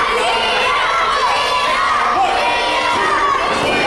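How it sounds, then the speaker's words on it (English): Hundreds of children in the crowd at a live wrestling show in Manteca chant and shout together, a loud, dense and continuous roar of young voices with a rhythmic chant running through it. "As you got hundreds of kids in the crowd saying, cheater, cheater, cheater."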